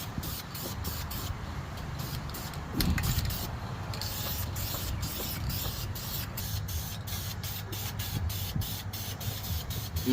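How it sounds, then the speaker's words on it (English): Spray primer going onto bare metal inside a car trunk's spare tire tub during a Honda CRX build, a steady hiss lasting throughout with broken bursts and some low background rumble, close and fairly loud. "I'm gonna go ahead and prime hit primer on the bare metal."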